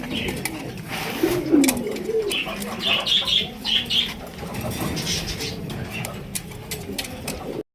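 King pigeons at a pigeon market coo in soft repeated bursts, with brief wing flaps and bright chirps around them, while someone talks close by over the birds.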